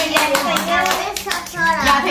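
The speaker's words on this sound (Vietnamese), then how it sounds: "Vỗ tay, vỗ tay con, vỗ tay đi." A small child claps hands at a first-birthday celebration, a few soft claps mixed in among adults and children speaking and singing nearby, close and casual.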